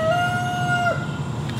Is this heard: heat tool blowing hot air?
no